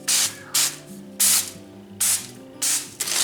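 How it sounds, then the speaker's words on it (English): Five sharp bursts of beef tallow spray hiss from an aerosol can in short, evenly spaced pumps onto potatoes, each lasting about a third of a second, close and loud. "I'm gonna spray them with this beef tallow"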